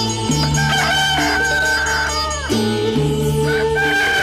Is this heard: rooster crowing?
yes